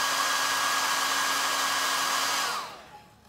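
A hair dryer blows steadily at close range, drying paint on plaster-coated MDF, then switches off and winds down near the end.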